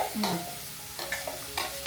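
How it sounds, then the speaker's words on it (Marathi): Coconut-based spice paste for mackerel fish curry sizzles and crackles in hot oil while a spoon stirs the pan in short bursts, close and clear with no voices. "वाटणाची फोडणी केली आहे इकडे"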